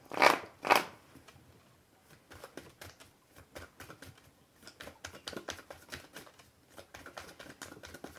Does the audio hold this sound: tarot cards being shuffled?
yes